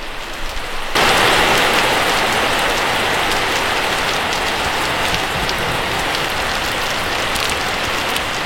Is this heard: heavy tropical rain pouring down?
yes